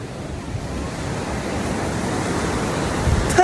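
Sea waves wash onto a Bohol shore in a steady, broad rushing surf, with some wind noise on the microphone. The wash holds even and swells slightly near the end.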